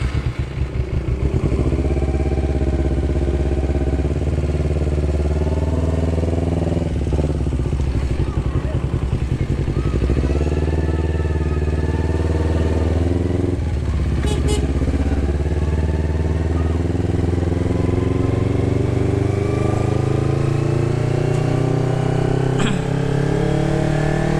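A motorcycle engine held at full throttle while riding home during a Ramadan afternoon ride, a steady close drone with rising pitch and shifting revs that continue throughout, with a voice talking over it now and then.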